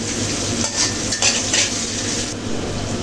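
Dried red chillies fry in a pan with onion and garlic, giving a steady, close sizzle broken by a few light clinks and scrapes of a stirring utensil against the pan.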